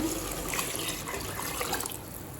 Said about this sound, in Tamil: இப்போ இது கூடவே 4 கப் தண்ணி சேர்த்துக்கலாம்.